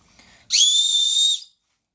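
A single sharp, high whistle blast lasting about a second, loud and clear after a brief faint murmur, then silence.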